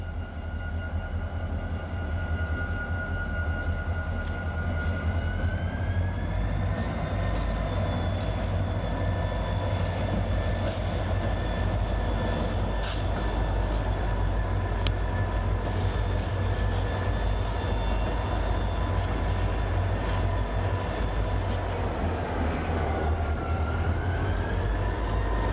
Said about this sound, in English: A KCS train number 10 arriving at Doremus Yard,